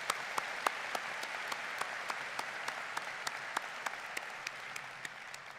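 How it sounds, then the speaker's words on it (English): Steady audience applause at a spring university commencement for the business and technology college, dense, even clapping with sharp individual claps standing out, continuous throughout with no voices. "Let's give them both another round of applause."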